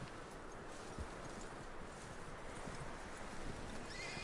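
Horse hooves clip-clop steadily in the Red Dead Redemption video game, a quiet, even walking rhythm under a low background wash with no voices.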